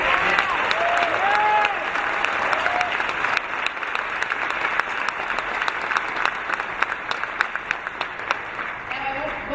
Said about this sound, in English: join me in a round sound of applause for the members of NYPD as well